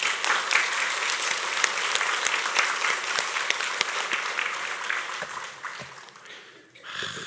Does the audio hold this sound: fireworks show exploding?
no